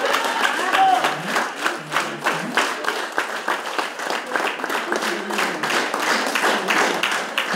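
Audience applause at a concert evening, loud continuous clapping from a crowd that pulses rhythmically as the audience claps in unison, holding steady throughout.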